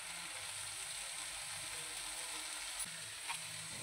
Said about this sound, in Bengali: এতে বেটে রাখা সর্ষে আর তিলের পেস্টটা দিয়ে দেবো আর একটু নেড়ে